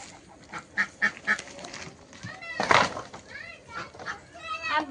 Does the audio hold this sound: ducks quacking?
yes